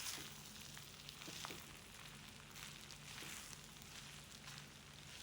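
Chicken satti soru stir-fries over a high flame, giving a steady, dense sizzle with faint stirring scrapes and no voices.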